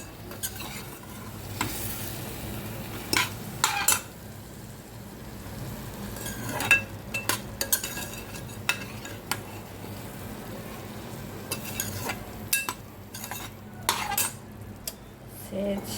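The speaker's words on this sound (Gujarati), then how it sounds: "શાક તો આપણે વઘારી દીધું છે. અને આજે બનાવી છે ફુલાવર." A spoon stirs cauliflower curry frying in a pan, scraping and clinking against the metal at irregular intervals over a steady soft sizzle.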